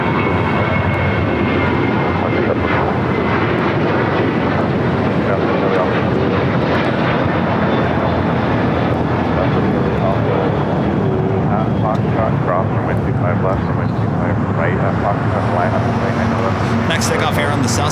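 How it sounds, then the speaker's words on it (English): A jet airliner takes off from the south side runways at LAX, its engine roar loud and sustained throughout, with people talking over the steady rumble. "Next takeoff here on the south side."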